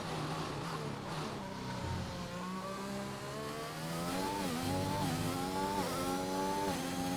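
A race car engine in a racing video game accelerates steadily down a straight, a continuous loud revving whine climbing in pitch through the gears with brief dips at each shift, with no talking.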